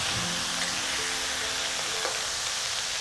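Lamb chunks hit a hot pan with ginger and scallion pieces and crackle in a steady, close, dense sizzle throughout, with a few faint scrapes and no talking.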